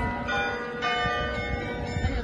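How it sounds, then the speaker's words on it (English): Town hall bells in the old centre of Maastricht chime steadily and loudly at dawn, with rich overlapping tones ringing continuously and no voices. "There's a town hall, bells are chiming."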